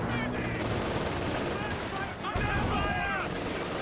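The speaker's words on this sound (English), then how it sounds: "Panther's trying to do his work and has all three MGs firing." A Panther tank in the Company of Heroes 2 strategy game fires all three of its machine guns, making a dense, continuous rattle of gunfire with bursts of battle noise over a steady background of combat sound.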